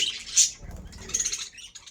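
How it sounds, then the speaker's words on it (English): Small birds chirp in quick, high, twittering bursts, fairly close and lively, with faint rustling or patter beneath, no voices. "they're always active and making a lot of chirps, a lot of chirps."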